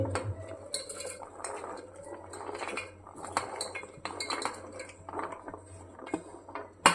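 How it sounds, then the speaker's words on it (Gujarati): Washed vegetables for rajwadi khichdi go into a pressure cooker with repeated clinks of a metal spoon against the pot and soft thuds and rustles, close and irregular, with no talk. "હવે આ બધું શાકભાજી આપણે કુકરમાં નાખી દઈશું"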